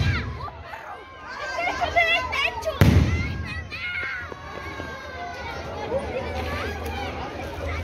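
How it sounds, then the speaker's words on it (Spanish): A firework bomb bursts in one loud, sharp blast at a Christmas celebration in a town garden plaza in Tamazula, Jalisco, over steady crowd chatter and children's voices. "Ahí va la bomba."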